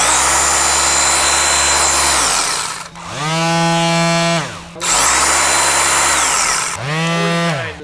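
A Sears electric pad sander runs loudly in two long bursts, each spinning up, holding a steady whine, then winding down before starting again.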